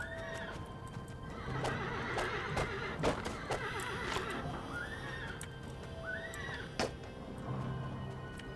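A horse in a video game neighs several times, its whinnies rising and falling over a steady game ambience with occasional clip-clop hoofbeats and sharp impacts.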